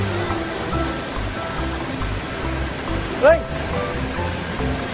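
Strong river current rushing at Madongan Dam river resort in Dingras, Ilocos Norte, a steady close roar of water throughout, with a voice shouting briefly over it.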